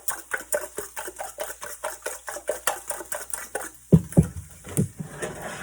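A whisk beats egg mixture for a ham and cheese omelet in a bowl, giving quick, steady clinks about four per second, with a few heavier knocks near the end.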